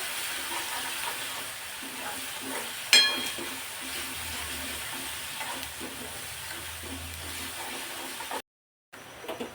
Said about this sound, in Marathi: आता हे व्यवस्थित आपण सर्व परतून घेणार आहोत या तेलावर